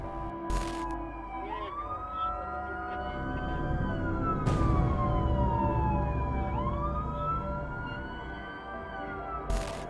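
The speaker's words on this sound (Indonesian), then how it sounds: "Orang ini ngevideoin sebuah ambulans yang lewat di depan gedung itu." Ambulance siren wailing as it passes in front of a building, heard through a played phone recording, a loud rising and falling tone with traffic rumble underneath.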